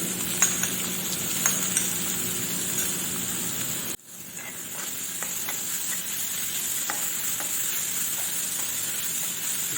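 250 grams of chopped onions sizzle in 3 tablespoons of hot oil, a steady loud frying hiss with stirring clinks; the sizzle drops briefly midway, then resumes and continues evenly.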